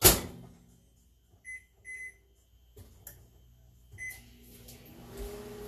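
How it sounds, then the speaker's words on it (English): Microwave oven running with butternut squash inside to melt the cheese on top, a low steady hum broken by a few short high beeps and faint clicks, fairly quiet with no talk. "I'm just going to pop this in the microwave a little bit."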